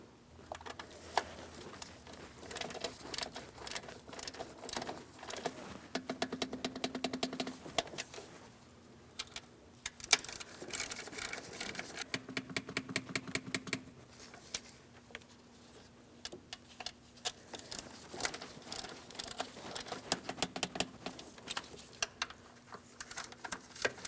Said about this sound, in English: Let's go ahead and torque these in that sequence to 89 inch-pounds the first time around.